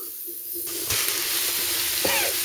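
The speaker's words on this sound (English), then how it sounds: "Chuck in your garlic and onion. Got to stir." Garlic and onion sizzling in hot oil in a pan, a loud continuous crackling hiss that swells as the aromatics hit the oil, with a couple of spoon scrapes while stirring and no voices.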